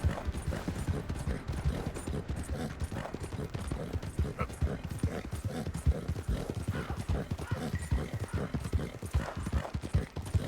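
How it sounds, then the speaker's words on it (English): Horse hooves pounding steadily in Red Dead Redemption 2 as a small mount gallops, a rapid continuous clip-clop rhythm with creaking tack, loud and close, with faint talk underneath. "I mean, Daisy is a small horse, but she's tiny but mighty."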